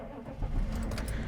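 A GM 6.5L diesel engine in an OBS Chevrolet/GMC truck cranks and catches, its low rumble rising after a brief starter whir and settling into a steady idle heard from inside the cab.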